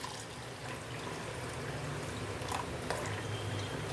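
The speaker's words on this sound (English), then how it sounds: "I have washed this dal nicely and pour water." Water is poured over washed tur dal in a kitchen for soaking, a steady close splashing and trickling stream that runs continuously for several seconds with no talk.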